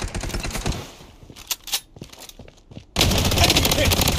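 Bursts of automatic gunfire in the shooter game Blood Strike, a rapid rattling burst early on, then a few scattered shots, and finally a sustained loud stream of fire closing the clip.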